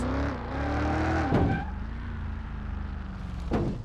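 A BMW M3 GTR race car in Car Mechanic Simulator, 800 horsepower on fat tires, revs and whines, tires squealing as it spins out, with a couple of sharp sliding bursts.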